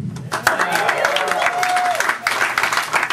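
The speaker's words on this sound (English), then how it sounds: "Don't applaud. Don't applaud." Audience at a comedy show clapping and cheering, a steady patter of applause mixed with a voice speaking over it.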